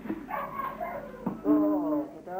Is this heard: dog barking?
yes